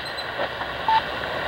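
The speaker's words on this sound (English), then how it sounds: "These are the time beeps of the Moscow time signal station in Moscow, Russia." A single short radio beep from the RWM Moscow time signal station on 14996 kHz, received on a Tecsun PL-680 shortwave radio, rises briefly out of steady shortwave static and hiss.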